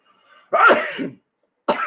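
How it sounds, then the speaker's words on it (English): Person sneezing indoors, a short faint intake followed by a loud, burst-like sneeze, then a second abrupt burst starts after a brief silence. "No, I'm sneezing."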